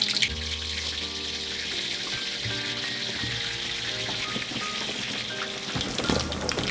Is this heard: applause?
no